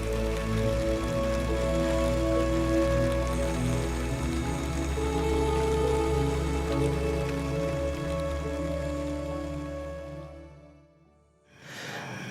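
Steady rain falls on a tent during an autumn cycling trip in Scotland, a dense continuous patter that holds evenly for about ten seconds, then fades briefly before returning.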